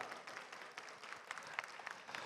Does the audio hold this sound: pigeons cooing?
no